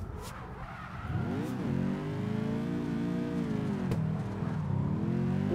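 Drifting car in CarX Drift Racing on the Akina course, driven with a Moza R12 wheel: a steady, loud engine drone that climbs and holds high revs, with a brief dip and shift, tire squeal blending in, no talk.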